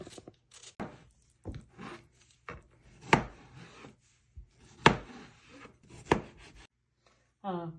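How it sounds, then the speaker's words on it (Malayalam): A peeler scrapes the skin off a raw mango for Kerala-style pickle, with short rasping strokes in an uneven rhythm, close and fairly quiet, separated by brief pauses. "ഞാൻ പീലർ ഉപയോഗിച്ചാണ് തൊണ്ട് ചെത്തുന്നത്"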